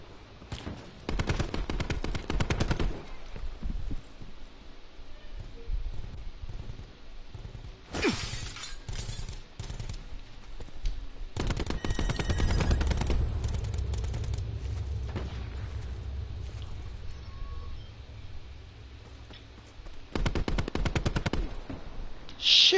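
Gunfire in Black Ops 4 on PS4: loud bursts of automatic fire and sharp shattering impacts come in several clusters across the stretch, with rumbling booms in between and no talk over them.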